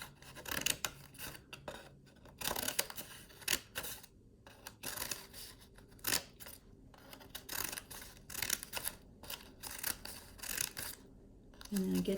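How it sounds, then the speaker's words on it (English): Big scissors cut a photograph into strips, stopping short of the edge, producing faint repeated snips and scraping rasps close up at low volume. "I'm using my big scissors, but you can use your little kid's scissors if you want."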